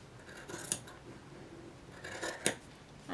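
Fabric scissors snip through fabric along a pinned pattern in a few quiet, close cuts, two sharper snips standing out over faint room tone.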